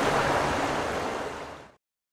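Rushing, surging water from the video game Heavy Rain, a loud broadband wash that holds steady, tapers and cuts off after under two seconds, with no voices.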